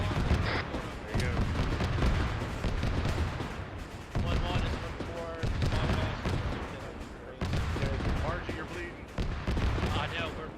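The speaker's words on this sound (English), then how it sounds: "There's an autocannon shooting at us" Autocannon fire pounds in a military simulation video game, with rapid repeated bursts and heavy booms across the clip, loud and dense, as players call out over the gunfire.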